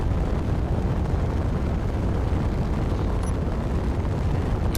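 Sustained, loud, rumbling explosions from artillery turrets during a ship battle in the space game Space Engineers, a continuous dense roar with no gaps and no talking.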